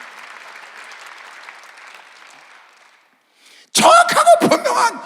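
Church congregation at a Sunday worship service breaks into loud, dense clapping after a pause, preceded by softer scattered crowd noise.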